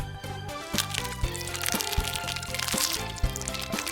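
Sharp cracks and crunches of a hard starfish-shaped object snapping apart, several quick breaks over music playing in the background.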